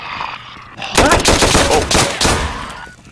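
Loud bursts of rapid automatic gunfire in Minecraft crackle and echo in quick succession, dense and close, fading slightly at the end.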